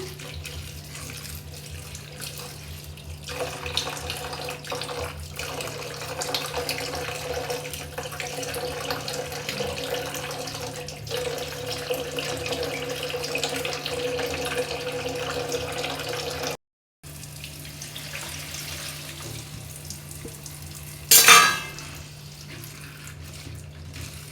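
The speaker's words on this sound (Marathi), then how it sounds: "शेंग व्यवस्थित स्वच्छ आता आपण धुवून घेऊया" Tap water runs steadily into a sink while green bean pods are washed by hand in a home kitchen, a continuous splashing stream that briefly stops and resumes, ending with a short louder rattle.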